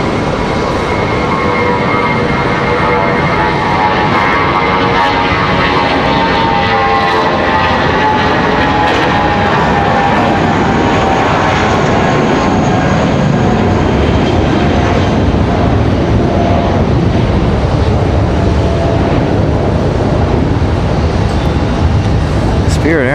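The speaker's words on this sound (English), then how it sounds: "Spirit Airlines not messing around, getting up and out" A Spirit Airlines airliner takes off at Raleigh-Durham airport with a loud, close jet roar and gliding engine tones that build and sweep across the whole span, and voices talk over it.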